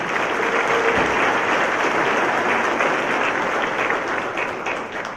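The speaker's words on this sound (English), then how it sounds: "Give everybody and yourselves a big round of applause." An audience at the opening session of the 2014 Mobility 21 transportation summit applauds. The clapping is loud, dense and steady throughout and tapers slightly at the end.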